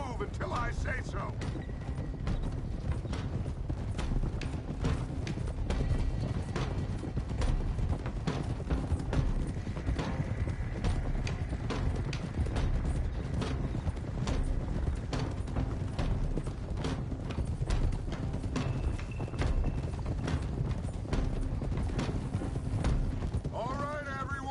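Horses clip-clop steadily at a ride in Red Dead Redemption 2, a dense, continuous patter of hooves with faint mechanical rattles and brief voices over it.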